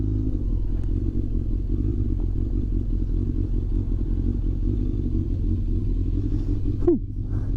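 Motorcycle riding over rough ground, a steady low engine rumble with clattering knocks throughout, close and continuous, ending with a brief rising rev.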